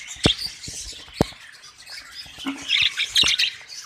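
Pair of pied budgerigars in a breeding cage giving short sharp squawks and chirps, close and loud, with a few clicks and tapping in between.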